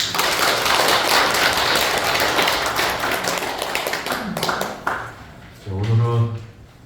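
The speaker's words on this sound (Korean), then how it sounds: "금천 교수님께 큰 박수 좀" An audience at a Buddhist dharma service applauds a professor with loud, dense clapping that gradually thins out, followed by a brief voice near the end.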